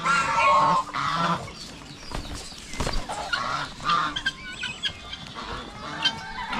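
Farmyard turkey and chickens call in bursts of honking gobbles and clucks, fairly close and irregular, with rustling between the calls.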